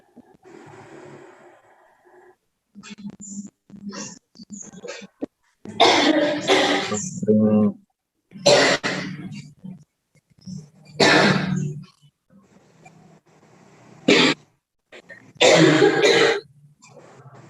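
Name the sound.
coughing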